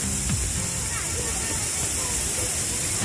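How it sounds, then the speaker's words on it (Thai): Steady broadband rushing of Haew Suwat Waterfall in Khao Yai National Park, continuous and even, with faint voices mixed into the background. "ได้ยินเสียงน้ำตกอยู่นะ"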